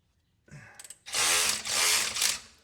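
A power tool whirs up in a loud, close burst after a few brief clicks while the top differential cover bolts on a 2022 Ram 3500 High Output diesel truck are loosened.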